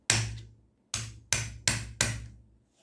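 Five sharp hammer blows striking a desk chair's metal pin and ball bearing to close a gap, each a crisp ringing impact that decays quickly, spaced irregularly with a longer pause after the first, close and without talk.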